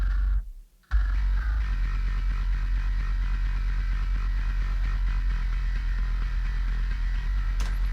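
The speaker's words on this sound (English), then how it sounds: "So bass by itself sounds like this." Distorted, compressed bass guitar track soloed from a band's album mix, a dense, steady low-end rumble that cuts out briefly near the start, then holds loud and consistent.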